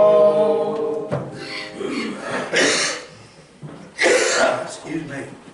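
A person coughs in a few short, harsh bursts, close and fairly loud, with vocal sounds in between.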